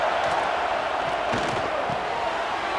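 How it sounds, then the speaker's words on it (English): Stadium crowd roaring in NCAA 26 college football during a Florida Gators game on third down, a dense steady wash of cheering with a few faint thuds. "This crowd unhinged, trying to make sure the Gators don't back down on 3rd down"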